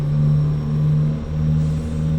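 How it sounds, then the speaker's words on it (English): A Cummins NTC Big Cam 400 truck engine in American Truck Simulator, still warming up, rumbles loudly and steadily at low revs, close and alone, with a slight swell and dip. "My engine is still warming up, but it's getting there."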